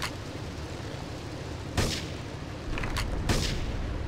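Sniper rifle shots in Grand Theft Auto 3, a few sharp cracks spaced a second or so apart, standing out against a constant low background rumble.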